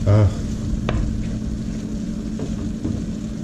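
Onions and carrots sizzle in a pan while a spoon stirs them for a Moroccan rice pilaf with cayenne and cinnamon. It makes a steady broadband hiss with a few light scraping taps, and no one talks.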